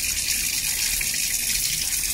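Steady rush of tap water running continuously from a faucet switched on by a TP-Link Tapo smart plug, loud and close with no talk over it.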